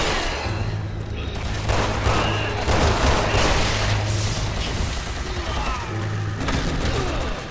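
Gunfire in the video game Resident Evil 6, dense rapid shots and booms in a sustained loud barrage, with faint talk mixed in.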